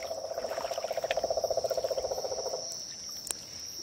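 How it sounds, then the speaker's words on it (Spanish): Frogs croaking at night near a pond, a fast rapid pulsing chorus that swells loudly then cuts off, with a steady high insect-like drone continuing underneath. "Qué bulla de ranas, te digo."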